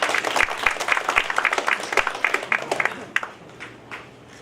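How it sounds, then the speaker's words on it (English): An audience at a conferment ceremony applauds in a dense, steady patter of clapping that thins out and fades near the end. "a round of applause"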